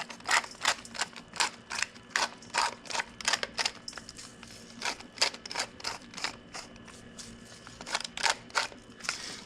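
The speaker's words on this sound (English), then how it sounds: "some freshly ground black pepper" Black pepper is ground in a pepper mill close up, producing many rapid gritty cracking twists in quick irregular bursts that carry on steadily throughout, with no talking.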